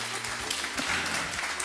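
Applause from a studio audience on a French TV set, a dense steady patter of clapping at even loudness throughout, with a low musical hum sitting underneath.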